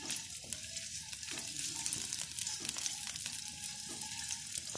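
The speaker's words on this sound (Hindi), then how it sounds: "हरी मिर्च और इसको 1-2 मिनट के लिए हम इसको फ्राई करेंगे।" Garlic and green chilies fry in oil for a soup, a continuous close sizzle with occasional stirring scrapes and no talking.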